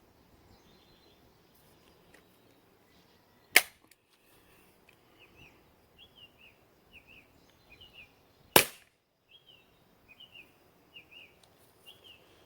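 Beeman P17 air pistol fired twice outdoors, two sharp, loud cracks several seconds apart, with faint birdsong chirping in the background between the shots.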